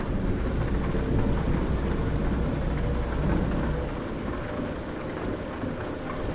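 Heavy rain and rolling thunder in a storm in American Truck Simulator, a dense continuous roar with a deep rumble that fades partway through, leaving steady rainfall.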